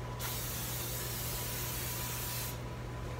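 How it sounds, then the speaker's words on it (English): A continuous hiss of aerosol cooking spray greasing cookie sheets lasts a couple of seconds close by, then cuts off. "Our cookie sheets need to be greased, so I'm just gonna spray them with some cooking spray."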